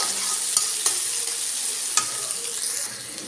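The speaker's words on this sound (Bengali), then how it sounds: "এখন ভালো করে নাড়াচাড়া দিয়ে নিব।" A utensil stirs onion and chilies frying in a pan, with scraping clicks breaking through a constant loud sizzle of hot oil.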